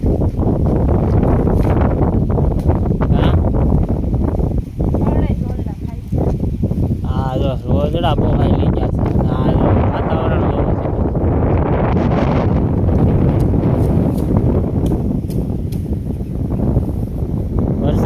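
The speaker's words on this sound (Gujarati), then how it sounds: "પવન ફરી ગયો" Strong, steady wind buffeting the microphone outdoors, a continuous loud rumble with gusts throughout.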